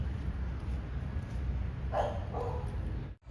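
A dog in a park gives a couple of brief, mid-distance barks over a steady rumble of outdoor background noise.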